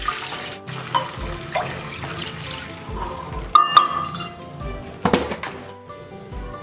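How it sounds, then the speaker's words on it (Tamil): Water going into a pan of sautéed onion and lentils for millet upma, heard as a soft splashing pour with scattered clinks and thunks of utensils around it. "இப்போ நான் 2 கப் வாட்டர் ஆட் பண்றேன்."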